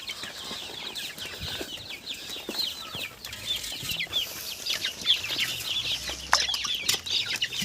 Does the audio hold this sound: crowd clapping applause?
no